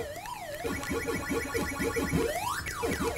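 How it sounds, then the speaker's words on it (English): Dot-eating sound from a Pac-Man style game on the Atari VCS, a rapid string of short electronic chirps in steady rhythm over the game's wavering siren tone, with a sweeping glide near the end. "The eating of the dots is so much better."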